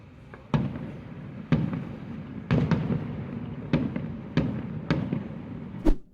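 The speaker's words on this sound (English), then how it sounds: "they've put on a little fireworks display to celebrate" Fireworks display at Tivoli: a run of distant, sharp bangs roughly a second apart, each followed by soft crackle, faint over a low rumbling background.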